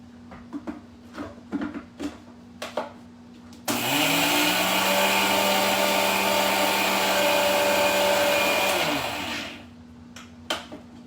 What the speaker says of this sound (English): So here this 1 cup of oats I'm going to quickly grind